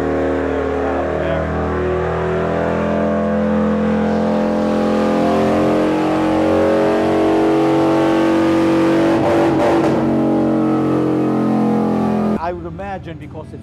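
A deep, loud motorcycle engine with a Bassani 2-1 exhaust drones steadily with a throaty low exhaust tone, briefly flaring mid-way, then drops off sharply near the end.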